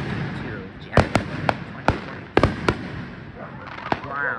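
New Year's fireworks burst in a string of sharp, loud cracks and booms, about eight distinct blasts at irregular intervals over a continuous crowd murmur and ambient noise.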